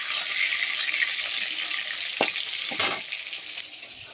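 Fish sizzles steadily in hot oil in a pan, a continuous bright crackle with a few sharp clinks and scrapes near the end, close and fairly loud with no voices.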